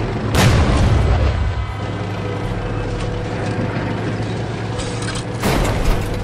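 Heavy booming gunshots in the horror shooter game Fossilfuel, two loud blasts spaced several seconds apart over a low rumbling mechanical background, with no talking.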